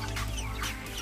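34-day-old broiler chickens cluck softly nearby in short bursts over a steady low background hum.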